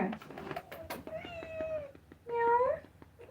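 A cat meows twice close by, two rising, drawn-out calls about a second apart over quiet room noise with faint background voice.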